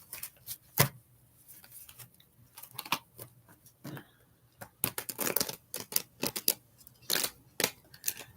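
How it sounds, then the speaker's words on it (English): Tarot cards being shuffled, a quiet run of crisp, irregular riffling and snapping bursts that come in clusters and grow busier toward the end. "I'm talking to my cards. They're shuffling weird."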